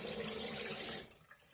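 Water runs steadily from a repaired kitchen tap after a blocked pipe was cleared, a close, continuous hiss that drops off and tails away near the end.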